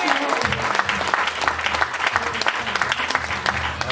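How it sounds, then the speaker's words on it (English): A church congregation at a revival service breaks into steady, dense applause, loud and close, with voices and cheers mixed into the clapping throughout. "Give the Lord a big round of applause."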